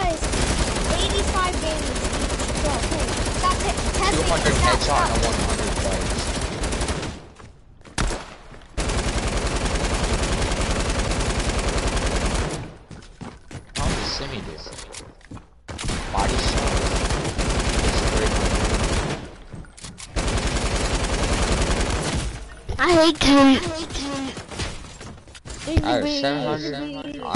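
TAC SMG submachine gun firing in a video game, long loud sustained bursts broken by short pauses, with a player talking briefly between volleys.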